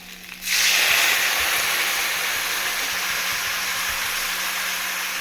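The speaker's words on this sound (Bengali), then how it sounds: "এবার আমি পরিমাণ মতো জল দেবো।" Water hits a hot pan of spicy rohu fish curry with taro and potato. A sudden loud, steady sizzling hiss starts and holds, easing off only slightly.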